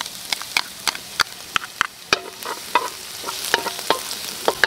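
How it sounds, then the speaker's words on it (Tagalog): Garlic and ginger sautéing in a pot for bone-in molo soup, a steady sizzle broken by repeated sharp scrapes and clinks of a spoon stirring, close and fairly loud with no voices. "nagisa na natin lahat yung bawang, sibuyas, at luya"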